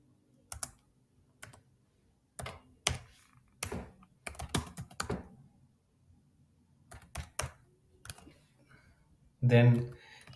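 Typing on a computer keyboard while entering a web server's virtual host configuration: quiet, irregular bursts of key clicks with pauses between, close and alone, ending in one louder clatter.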